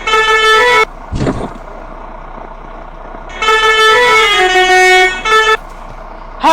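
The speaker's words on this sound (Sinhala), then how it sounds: "හෝන් එකක් ගහගමු." A bus horn in a Sri Lankan driving simulator game sounds close and loud. One long blast is followed by a short toot, then a quiet engine rumble, then a longer sustained honk with brief extra toots.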